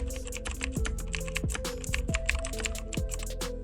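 Rapid typing on a computer keyboard, dense, steady clicking of keys at close range with an occasional heavier keystroke, alone without speech.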